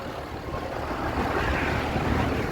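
Strong wind gusts buffet the microphone outdoors in Illinois in 51-degree weather beside a truck and trailer, a steady loud roar with broadband rushing that swells slightly midway, with no talking.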